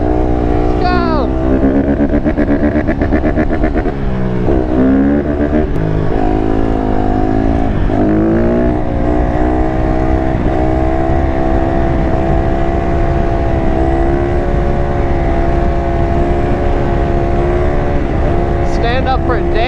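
Honda CRF150RB dirt bike engine held near top speed, a loud, sustained high-revving whine with small pitch shifts as the rider shifts and eases off, under heavy wind buffeting; voices are faintly audible beneath the engine.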